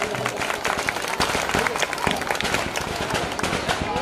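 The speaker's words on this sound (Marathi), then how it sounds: "जरा जोरदार टाळ्या होऊन जाऊ द्यात।" An audience at an inauguration ceremony claps in a dense, continuous roar of applause, loud and close, with crowd voices mixed in.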